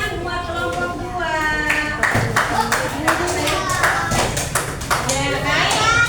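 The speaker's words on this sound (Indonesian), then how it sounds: "Tepuk tangan buat kelompok 2." Children in a classroom clap together for a student group, a burst of uneven hand claps over lively kids' voices and chatter, with a teacher's voice audible.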